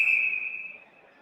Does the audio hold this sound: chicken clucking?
no